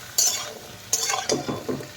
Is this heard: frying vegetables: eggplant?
yes